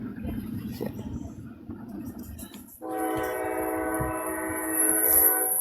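Train horn sound effect: a sustained, loud multi-tone blast that cuts in partway through and holds steady to the end, following a stretch of low rumbling noise.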